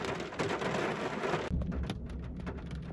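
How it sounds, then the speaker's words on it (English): Hailstones fall in a May thunderstorm around a Citroen C1: a dense, close rattling roar that abruptly drops to sparser, scattered hits, with a low rumble of thunder underneath and no talking. "Hailstones in May."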